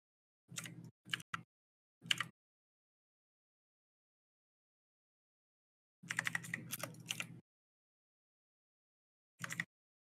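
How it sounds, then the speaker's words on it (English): Bursts of typing on a computer keyboard during an online game, quiet and close, in a few short clusters of rapid key clicks separated by silence. "I can't believe a diamond player is typing out."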